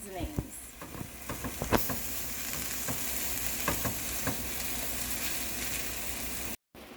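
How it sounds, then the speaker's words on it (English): Egg roll filling vegetables sizzle and wilt in a hot pan with a steady close frying hiss, punctuated by scraping and stirring clicks, ending in a brief cut. "we're just going to keep cooking this up until it wilts down"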